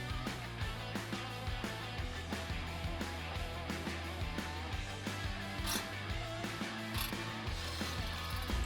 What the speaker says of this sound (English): Using a 10mm socket, secure the fender liner brackets on either side of the bumper to the provided UP Invincible bumper.